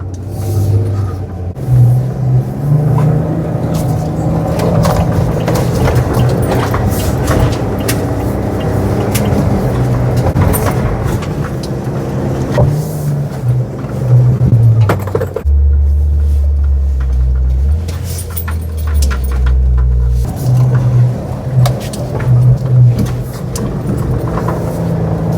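An Ineos Grenadier rolls forward in neutral and settles to a stop, with a steady low engine rumble running close and continuous throughout, shifting in tone partway through.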